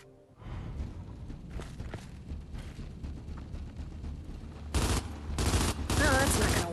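Rapid automatic turret fire from the Gears of War 5 video game rattles in bursts over a dense battle backdrop, growing louder and harsher near the end.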